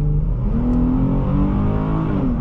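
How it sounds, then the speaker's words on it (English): A 2020 Dodge Challenger SXT engine revs up steadily, its pitch climbing smoothly as it accelerates, heard loud and continuous from inside the cabin. "I have to accelerate like that driving this car."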